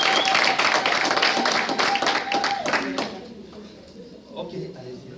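A church congregation applauds in rhythmic clapping under a voice, which breaks off abruptly partway and gives way to quieter murmurs and scattered sounds.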